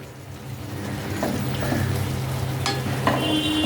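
Pointed gourd with sesame seeds frying in oil in a pan, a steady close sizzle throughout with occasional stirring scrapes and soft pops.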